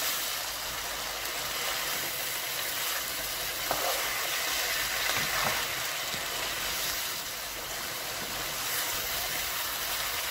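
A cauliflower and chicken curry sizzles steadily in a pan while being stirred, a loud, continuous frying hiss with faint scraping of the spoon running throughout.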